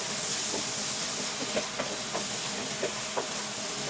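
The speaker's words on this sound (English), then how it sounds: "I'm just going to stir this in." Chopped mushroom stems stirred into veggies in a hot pan: a steady, fairly loud sizzling hiss runs throughout, with a few faint, scattered clicks of the utensil against the pan.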